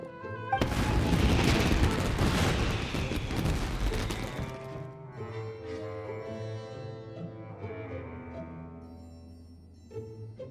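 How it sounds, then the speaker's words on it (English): Fireworks in Genshin Impact go off in a loud, dense cluster of bursts and crackles for several seconds, then fade into a ringing, musical tail. "Yoimiya, this is turning into a bit of a fireworks display"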